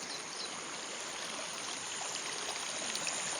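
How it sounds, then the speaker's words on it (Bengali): A swollen river in flood races past at high speed, its rushing water forming a steady, dense roar close by that fills the whole stretch without pause. "দেখতে পাচ্ছ নদীতে কি সুন্দর জল যাচ্ছে, বিরাট স্পিডে জল যাচ্ছে।"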